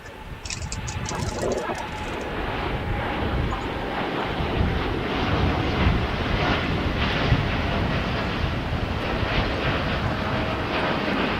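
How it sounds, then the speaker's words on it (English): A Japan Airlines Boeing 787-9 Dreamliner departs LAX for Osaka, its jet engines a steady, broad roar mixed with wind buffeting the microphone. "That's a 787-9 Dreamliner."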